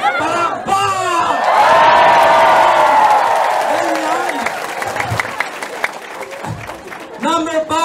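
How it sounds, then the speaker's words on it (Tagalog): A live audience claps and cheers for a motivational speaker, a swelling burst of applause with whoops that rises, holds for several seconds and then fades, with the speaker's voice talking before and after. "Palakpak!"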